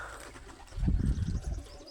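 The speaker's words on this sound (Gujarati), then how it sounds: "બધા હવે કબૂતર ઉડે છે" Pigeons coo softly nearby as some fly off, a short burst of low, throaty murmuring against a quiet background.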